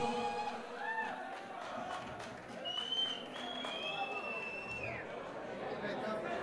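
An audience at a workplace celebration claps steadily for coworkers invited to dance, amid crowd chatter and a few whistles and cheers throughout.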